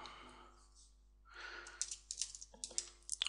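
Someone types a blog post on a computer keyboard, with soft breathing and a sigh first, then a quick, irregular run of close, crisp key clicks in the second half.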